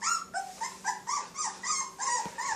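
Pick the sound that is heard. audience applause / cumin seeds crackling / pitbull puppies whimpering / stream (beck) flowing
pitbull puppies whimpering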